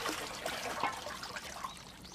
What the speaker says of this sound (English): People rinse out pots in the tanks and clean their freshly picked vegetables.